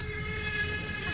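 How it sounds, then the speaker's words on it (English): A CN freight train reversing in Effingham, Illinois, a steady close rumble of railcars with faint squealing wheel tones over a brief moment, no talk. "We got a train going backwards"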